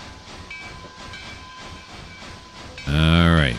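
Steam locomotive in Trainz 2022 rolling toward a turntable on the C&O Hinton route, with steady rumbling hiss under brief talk, then a loud, sustained steam whistle blast near the end.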